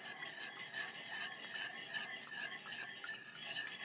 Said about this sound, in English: And I'm gonna put in the coconut milk and just whisk it all together.